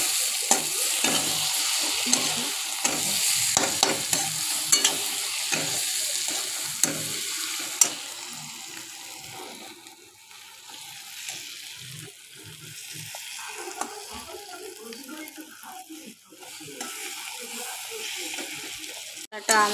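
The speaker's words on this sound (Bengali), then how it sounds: "আবার নেড়ে নেব ভালো করে।" Spice paste of turmeric and chili powder frying in a pan for a Bengali jackfruit and prawn curry, a steady sizzle with repeated scraping stirs throughout, and a voice talking now and then over it.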